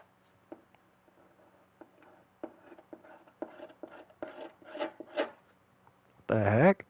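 Scratching at a strange hollow crack in a door, heard as a series of soft rasping strokes that grow busier, ending in a loud burst of noise.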